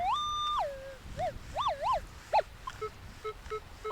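Electronic beeping tones from a Minelab Equinox 800 metal detector pinpointing a target: a sustained tone that drops, then warbling rising-falling chirps and a few short repeated beeps, fairly quiet.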